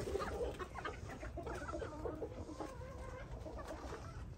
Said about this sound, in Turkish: İçeride tavukumuz var.